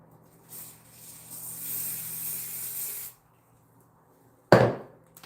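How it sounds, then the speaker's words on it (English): Wonder Lace Adhesive spray is misted onto waved hair, a steady hiss of about two and a half seconds with a brief softer start, then quiet and a short sharp thud or knock. "So to hold the waves a little bit longer, I use the spray, Wonder Lace Adhesive."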